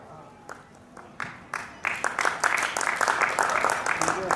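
An audience at a Hindi poetry gathering during a book fair in Deoghar starts with a few scattered claps that swell into steady applause from many hands. The clapping grows dense and fairly close, with a voice faintly underneath.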